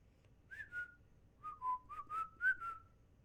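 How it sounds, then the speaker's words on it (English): A lone person whistles a short, wavering tune of several sliding notes, clear and fairly close with no talk over it. "and began whistling."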